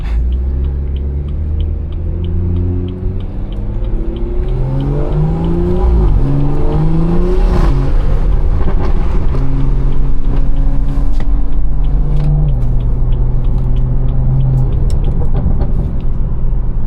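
A Stage 2 BMW 340i with a B58 engine revs and accelerates in a loud, close rumble, its pitch climbing and shifting through gears over about seventeen seconds of continuous engine noise.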